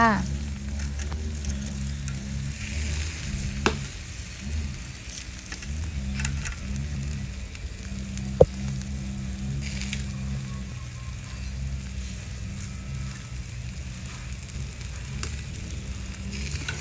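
Steady crackling sizzle of pork cooking on a hot grill, continuous and close, with a couple of sharp clicks and no talking.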